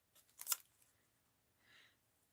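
Scissors make a quick crisp snip through a piece of paper for a mixed-media art journal, a brief close cut followed by a softer paper rustle, quiet with no talking.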